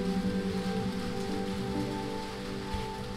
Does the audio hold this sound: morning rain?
yes